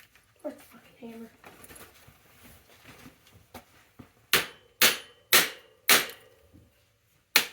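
Five sharp, loud hammer strikes land in a steady rhythm near the end of a bicycle build, each ringing briefly, following quieter clinks and handling noises.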